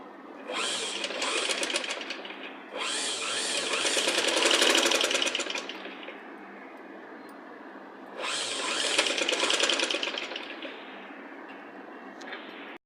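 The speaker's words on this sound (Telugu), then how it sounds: "దీనికి ఇంకోటి పాదం ఖర్చుతో స్టిచ్ వేసేసుకోవాలి." A sewing machine stitches piping onto a child's Punjabi dress top. It runs in three close, loud bursts of rapid whirring, separated by short pauses, with no talk.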